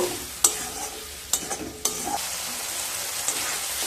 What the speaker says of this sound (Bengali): মশলা দিয়ে খুব ভালোভাবে কষিয়ে নেব